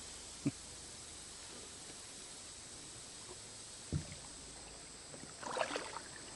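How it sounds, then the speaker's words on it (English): Kayak paddling through swamp water, with a few soft, separate paddle splashes and drips spread over a quiet, faint background, then a brief cluster of light water sounds near the end. "let me paddle around and see what we can come up with"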